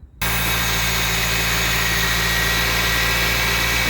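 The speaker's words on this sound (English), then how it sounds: "start the car and see if it runs true" A 2004 Toyota Celica 1ZZ-FE engine catches after a brief crank, then settles into a steady, even idle hum that continues close by.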